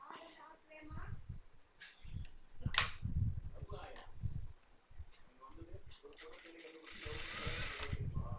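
A sewing machine stitches along the side seam of a nighty during an alteration, running in short stop-start bursts with clicks and a longer final run, while someone talks over it throughout.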